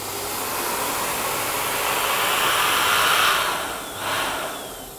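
An air compressor blows steadily as it inflates a foil balloon inside a clear Deco Bubble, a continuous broad airy roar that swells slightly, dips briefly near the end and carries on, with no talking.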